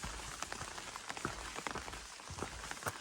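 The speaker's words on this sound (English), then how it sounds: "We got our rain." Rain pattering on a hiking trail on the Appalachian Trail during a distant thunderstorm, a faint steady hiss with scattered irregular drop taps close by.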